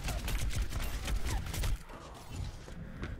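Reaper's shotgun blasts in Overwatch, several dense booming shots in quick bursts mixed with game noise during a fight, loud at first then easing off.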